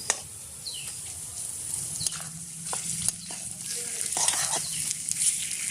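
Tomatoes going into a hot frying pan while cooking khichuri, a close sizzle with sharp bursts and stirring clatters rising and falling over several seconds, no talking.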